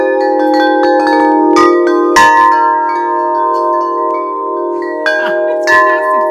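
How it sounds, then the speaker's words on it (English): A large chime in a yoga room rings out loud and sustained, struck a few times so its long metallic tones layer and shimmer together. "there's a massive chime there"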